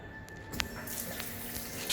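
Water runs from a tap through an aerator at about 3.5 liters per minute, a quiet, steady hiss with a few faint splashy pulses.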